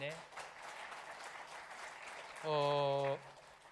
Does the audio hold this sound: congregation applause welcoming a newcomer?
yes